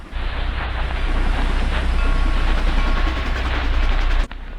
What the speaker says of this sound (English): The engine scuttles about the yard and eventually connects to its coaches and leaves